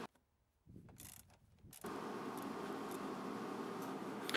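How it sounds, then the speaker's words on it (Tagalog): A socket wrench loosens the upper mounting bolts of a car's suspension strut, with soft ratcheting clicks at first, then a steady mechanical whirring grind that continues close and even to the end. "Loosen up the bolts using your socket wrench."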